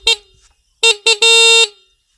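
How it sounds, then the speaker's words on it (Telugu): The horn of an ADMS Saathi e-bike with an open body, sounding loudly in close range: one short toot, then two quick beeps and a longer blast, with silence in between. "అండ్ ఓపెన్ బాడీ కాబట్టి హారన్ కూడా చాలా లౌడ్గా వస్తుంది."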